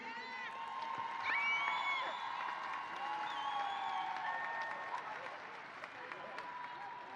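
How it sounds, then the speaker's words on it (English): Crowd at a girls' NABI 2025 basketball trophy presentation applauding and cheering steadily, with whoops and whistles rising over sustained clapping throughout. "All right, crowd, let's hear it for the one and only legendary Elite."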